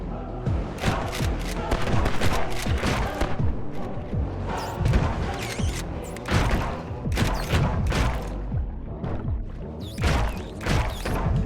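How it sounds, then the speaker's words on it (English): Rapid gunfire in the fast shooter Blood Vial, loud sharp shots in quick bursts with thumping impacts, fired in clusters across the whole stretch with brief gaps between volleys. "Let's just take more shots before reloading."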